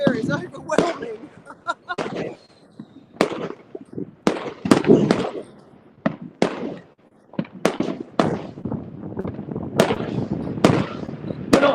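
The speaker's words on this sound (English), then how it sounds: "They're not cheap, are they, fireworks?" Fireworks at a live display in Spain burst in loud, sharp bangs, some single and some in rapid crackling clusters, echoing across the night with brief gaps between volleys.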